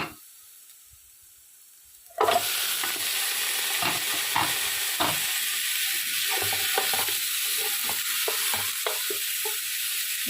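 Pig or goat trotters (paya) frying with garlic and ginger in a cooking pot give a steady, close sizzle, broken by frequent stirring scrapes and clacks after a quiet opening couple of seconds.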